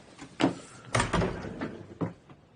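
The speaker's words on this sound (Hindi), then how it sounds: "दरवाजा बंद करो।" An interior door is pushed shut in an office setting, with a few soft bumps and a muted thud of closing at moderate distance.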